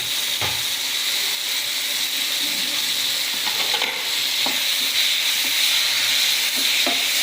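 Marinated chicken sautéing in a pan for Chettinad chicken kurma, with a steady loud sizzle and hiss throughout and several sharp scrapes and taps of a spoon stirring against the pan.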